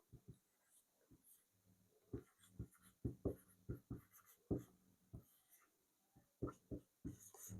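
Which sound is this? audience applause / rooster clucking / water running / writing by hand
writing by hand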